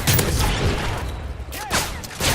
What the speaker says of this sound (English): I did not mean to throw that flashbang